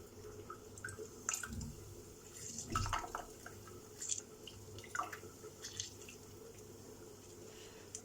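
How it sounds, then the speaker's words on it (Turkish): Half a lemon is squeezed by hand into a bottle of mineral water, producing faint, close dripping and squishing sounds in a few short bursts, with quiet pauses between them. "Yarım limonumuzu tamamen sıkıyoruz."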